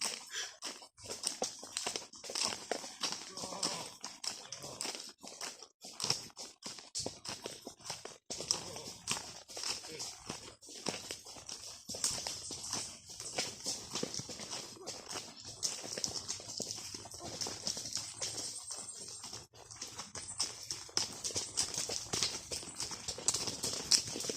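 Horse hooves clip-clop at a campground that welcomes horses, a steady run of light, close knocks over a dense outdoor background with some bird or insect hiss, continuing throughout.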